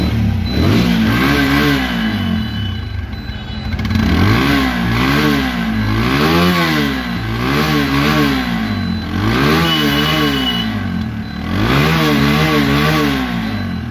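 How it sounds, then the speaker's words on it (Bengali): A second-hand black Apache RTR 160cc motorcycle engine revs repeatedly up and down in rhythmic bursts, loud and close, with a clattering mechanical undertone and no talking. "আমি দেখাই বাইকটি সাউন্ড"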